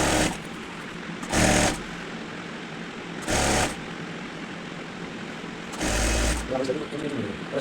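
A sewing machine stitches the side seam of an open nighty in short, loud bursts of rapid running, separated by pauses over a steady background hum.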